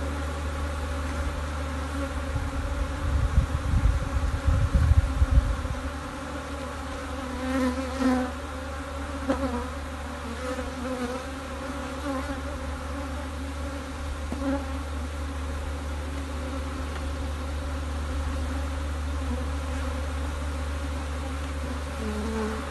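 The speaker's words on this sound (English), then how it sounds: "Bees are getting a little more active" Honey bees swarm and buzz around an open beehive during hive work, a steady close insect drone that holds throughout, with a brief louder burst of low rumble and handling noise near the start.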